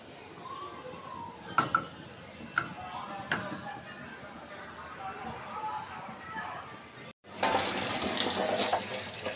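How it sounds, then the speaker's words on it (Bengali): Water used for rinsing hands is poured into a cooking pan of fish chorchori (a Bengali fish curry). A soft running trickle with a few clatters comes first, then a louder gush of pouring water near the end. "এই দিয়ে দিলাম হাত ধোয়া পানি"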